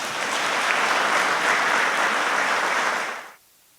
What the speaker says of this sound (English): let's give a warm EAA welcome for Kai.